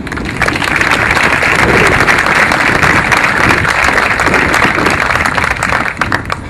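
A crowd at a hospital groundbreaking ceremony for the Southeast Health Center in Stoddard County applauds, with loud, close, dense clapping held steadily for several seconds before easing slightly at the end.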